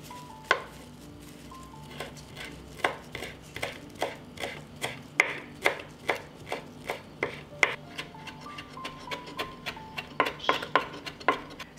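A knife chops a bunch of fresh parsley on a board in a home kitchen, with about thirty crisp, evenly paced cuts close up. No one speaks.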